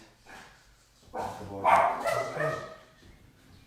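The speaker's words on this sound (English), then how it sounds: "Apologies for the dog noises." A dog barks and whimpers close by during a full-body stretching and mobility session, short yelps and whines rising in the middle of the stretch under a calm instructor's spoken guidance.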